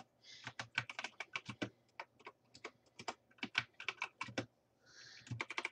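Rapid, uneven keystrokes on a computer keyboard, close and crisp, in bursts with short pauses as a phrase is typed into envelope design software.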